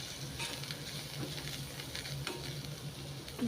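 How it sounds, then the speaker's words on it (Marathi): Masala for a dried prawn curry sizzles continuously in a hot pan with soft scraping as it is stirred, close and steady with no voices. "दोन ते 3 मिनटं छान असं परतून घेऊया आपण"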